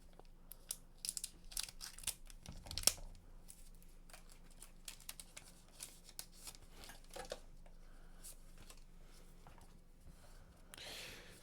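Riftbound trading card booster packs are opened by hand, with quiet crinkling foil, sharp snips and rustling wrappers in scattered bursts, close and soft, with no voices.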